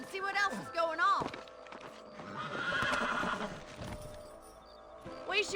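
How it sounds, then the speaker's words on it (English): In the video game Red Dead Redemption, a horse neighs loudly up close, followed by hooves clip-clopping and a second whinny at the end, with a voice speaking faintly underneath. "Let's get back on the horses and see what else is going on."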